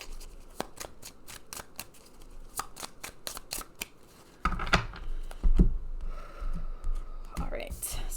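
A deck of oracle cards is shuffled by hand, giving quick crisp riffling ticks in irregular bursts up close, then heavier rustling and handling of the cards, with a voice in the background at times.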